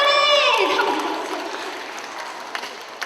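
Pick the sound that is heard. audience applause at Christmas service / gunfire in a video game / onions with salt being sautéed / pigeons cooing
audience applause at Christmas service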